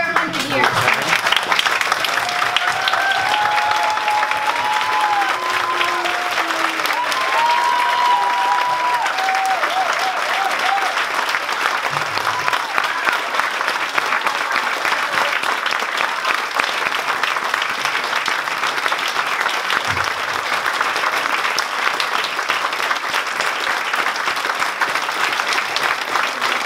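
A sustained, steady wave of audience applause for a breast cancer survivor at a breast health event, many hands clapping loudly and continuously for nearly half a minute, with faint voices calling out early on.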